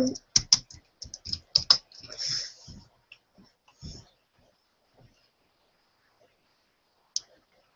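Rapid clicky keystrokes on a computer keyboard, close up in bursts during the first few seconds, then sparse isolated taps trailing off into near silence, with a quiet voice briefly mixed in.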